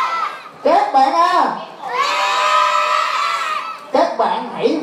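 Children at a Mid-Autumn festival show shout and cheer in loud, high-pitched bursts, with a long sustained group yell in the middle and fresh whoops at the end.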